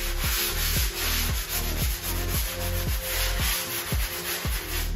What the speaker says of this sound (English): So I'm gonna sand around the edges.